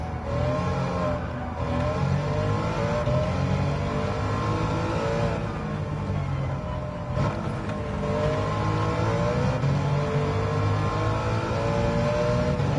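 An engine-swapped BMW M3 in the video game Gran Turismo 7 drones steadily and loudly under acceleration, its pitch rising and dipping through repeated throttle changes and gear shifts.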